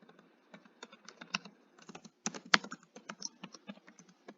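Quick, uneven typing on a computer keyboard, a steady patter of close clicky keystrokes with a few louder taps and brief pauses.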